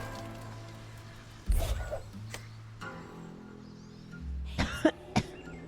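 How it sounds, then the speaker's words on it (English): Coughing from smoke, a single burst of harsh coughs early on and a second cluster of sharp coughs near the end, close and fairly loud over a quiet background hum. "Ignore my coughing."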